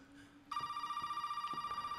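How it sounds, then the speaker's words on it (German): A telephone rings in the house in the horror video game Resident Evil 7, an electronic ring that starts abruptly and holds steady with a pulsing tone, preceded by a faint low hum. "Es läutet das Telefon schon wieder."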